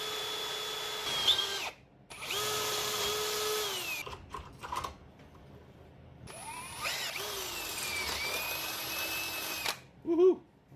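A small power drill bores straight through a metal part in two sustained high whining bursts separated by brief pauses, with faint clicks and handling noise between them.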